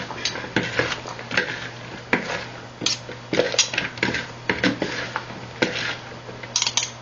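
German potato salad tossed with salad spoons in a bowl, a steady series of close clinks, scrapes and wet clatters recurring every half second or so, with a low hum underneath.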